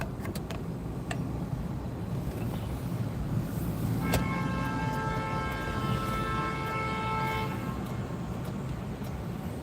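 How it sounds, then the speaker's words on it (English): A vehicle horn sounds along a busy New York City street, a sustained tonal blare rising over constant traffic rumble, moderately distant. "That's the sound of the horn ringing down the street."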